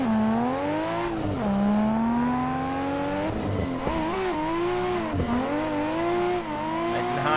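A drift car on a tandem run at US Drift round two, engine roaring loud and steady with pitch swinging up and down through revs, tire noise underneath, no talk.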